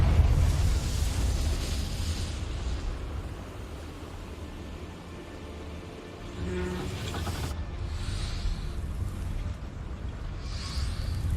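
The Confringo fire spell explodes in Hogwarts Legacy, a heavy, continuous low rumble broken by a few sharper blasts near the end.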